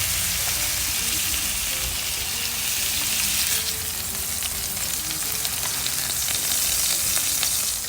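Veal saltimbocca cutlets fry in a pan with a loud, continuous, close sizzle that swells partway through, and a voice talks quietly underneath.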